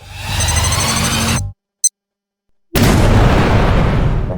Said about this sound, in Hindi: पिन्याता में एक असली बम था एंड उसने पूरी दीवार उड़ा दी।